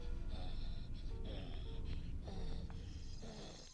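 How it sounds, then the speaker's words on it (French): Snoring in the horror game Granny Chapter Two: a steady, rasping, wheezy drone with rhythmic swells, close and continuous under a low background hum, with no talking. "Vous entendez les ronflements?"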